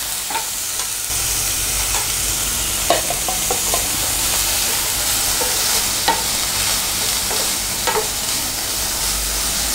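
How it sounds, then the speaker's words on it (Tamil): Capsicum and chicken sauté over low heat for chilli chicken, a steady close sizzle with occasional clinks and scrapes of a spoon stirring the pan. "வதக்கிக்கலாம். சிம்மில் வச்சுக்கோங்க. இது நல்லா வதங்கட்டும்."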